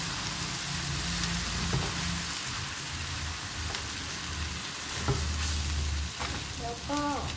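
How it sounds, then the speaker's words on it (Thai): Instant noodles with blanched vegetables stir-frying in a pan for a spicy Korean-style fire noodle dish, giving a steady close sizzle with occasional scraping stirs over soft background music. "แล้วก็เส้นกับผักที่ลวกไว้ลงไปเลยค่ะ"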